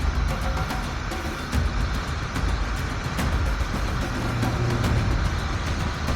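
A truck drives past in a video game, with a continuous broadband road rumble and engine drone at steady moderate loudness and no talking.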